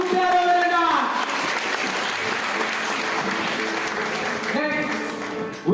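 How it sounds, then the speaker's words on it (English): Applause from a graduation ceremony audience fills the hall, steady and dense throughout, with a voice talking over it at the start and again near the end. "Come on, give her a round of applause."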